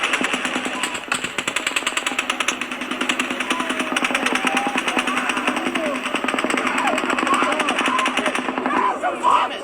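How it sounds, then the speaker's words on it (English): Sustained rapid automatic gunfire rattles during the Las Vegas shooting at the Harvest 91 outdoor country music festival, a steady, fast, evenly spaced string of shots lasting about ten seconds over a noisy, crowded open-air background. "But then, a sixth burst of fire."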